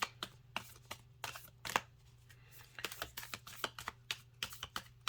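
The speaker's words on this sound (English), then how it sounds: "This is such a difficult deck to shuffle." Rapid riffling clicks of a card deck being shuffled, bursts of crisp flutters in quick succession over a low steady hum.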